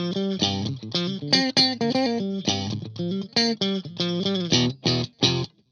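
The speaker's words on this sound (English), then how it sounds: "And even in the middle position, which is both pickups, sounds like this." Fender Telecaster in the middle pickup position, both single coils combined, giving a bright, well-rounded tone; a close run of picked notes and short chords in a choppy phrase with brief gaps and no voices.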